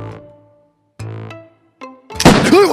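Accidental gunshot in a VR first-person shooter game: a sudden loud bang near the end, following a few short knocks and clicks from handling the weapon, with no talking.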